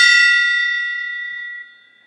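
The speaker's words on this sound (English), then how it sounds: "I'll do a gong hit for the Rover Black." A single struck gong rings out clearly with no voices, its bright metallic tones sustaining and slowly fading over about two seconds.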